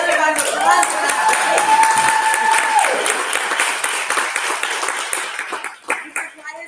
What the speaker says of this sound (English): get another round of applause for that